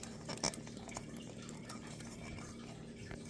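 A spoon stirs buko salad ingredients, made without coconut, together with cream and cheese in a bowl. There is steady close clinking and scraping throughout, with one louder knock near the start.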